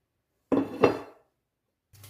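Cut potatoes, onion, garlic and tomato tipped from a container into a cooking pot for South Indian paruppu sadam, two quick clattering thuds close by, then a soft rustle.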